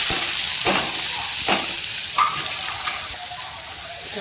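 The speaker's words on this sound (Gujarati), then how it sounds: "એમાં આપણે છે ને ડુંગળી એડ કરી દઈશું" Onions hitting hot oil for a tempering while making semolina bhajiyas, a bright steady sizzle with a few stirring scrapes and brief bursts, close and fairly loud, with no talking.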